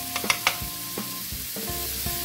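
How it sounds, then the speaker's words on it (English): Fresh chopped garlic sizzling in a pan with shrimp for a shrimp salad, a close, even hiss with light spatter and a few soft scrapes of stirring, no voices. "We're going to make a little happy area right here and add some fresh chopped garlic."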